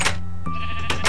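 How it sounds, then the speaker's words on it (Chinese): A Minecraft sheep gives one short, close bleat in the middle, with brief noisy bursts from the game just before and after it. "我打绵羊"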